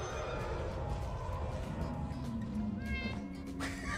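Cat meowing and screeching in the video game Lethal Company, a strained, wavering caterwaul heard fairly close over a busy game soundscape.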